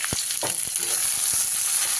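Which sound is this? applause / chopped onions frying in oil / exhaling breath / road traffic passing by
chopped onions frying in oil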